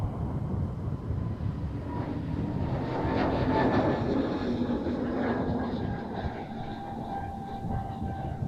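An SAS airliner taking off at Amsterdam Schiphol on a gusty day, a broad steady roar that swells toward the middle and then eases, with rumbling wind buffeting mixed in and no talk.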